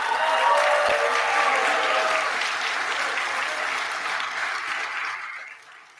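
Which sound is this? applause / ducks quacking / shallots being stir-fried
applause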